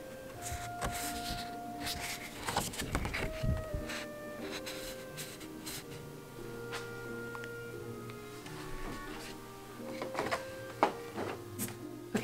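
A home printer makes art prints, running a long stretch of whirring and humming with mechanical shifts in pitch, feed clunks and clicks, steady and close with no talk.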